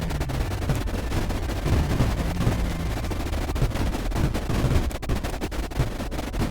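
Dense barrage of cannon and missile fire in Creeper World IXE, continuous overlapping booms and crackling shots that form a loud, busy, rumbling wall of sound with no talk.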